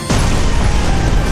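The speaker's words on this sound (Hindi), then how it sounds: "अपने पीछे एक बड़ा धमाका सुनाई दिया" A big explosion sound effect in a narrated story, a sudden deep boom followed by a dense rumbling roar that holds loud for the rest of the moment, with no speech.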